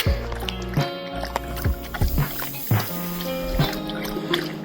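A ranch cow dog splashes and laps in muddy water close by, giving repeated wet slaps, squishes and drips in an irregular rhythm.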